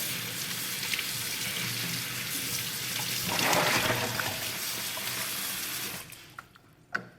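Water sprays as a shower over hydroponically grown pineapple plants, a steady close rushing splash that swells briefly midway, then stops, leaving a few drips and light knocks.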